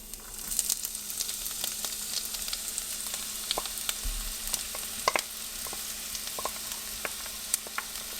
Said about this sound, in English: Now we're going to saute onions,